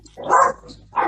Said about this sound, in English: I have dogs. They barking at something I don't know.